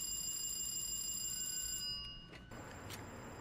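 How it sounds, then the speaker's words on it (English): Door buzzer on a Long Island Rail Road M3 commuter train, a steady electronic ringing tone under a loud cabin hum that cuts out partway, followed by a couple of brief clicks. "I heard the buzzer going off for the back doors."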